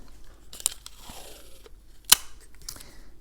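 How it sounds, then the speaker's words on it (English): Scotch tape pulled and pressed over stamped words on paper, with a couple of sharp crinkling snaps and soft rubbing, close and quiet. "all you have to do is tape over the words like this"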